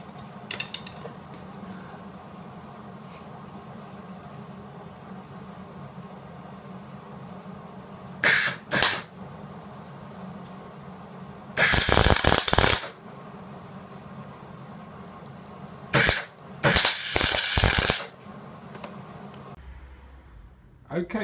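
Tack welding a pin onto a BMW R80 motorcycle part in a cafe racer build, heard as several short loud crackling bursts, then two longer sizzling bursts, over a quiet workshop background with no talk.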